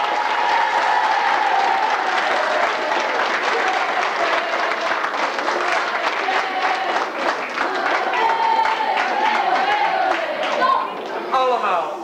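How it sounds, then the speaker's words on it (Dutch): A school musical audience gives warm, sustained applause in honor of the parents, dense clapping running throughout with a few voices and whoops rising above it near the end. "En daarom ons applaus voor u."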